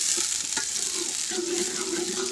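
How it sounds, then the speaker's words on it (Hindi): Potato pieces frying in oil for potato pea rice and browning lightly, a steady close sizzle with a few soft stirring scrapes throughout. "और इनको रंग चेंज होने तक भून लेंगे अच्छी तरह।"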